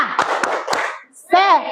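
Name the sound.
class doing a rhythmic spirit clap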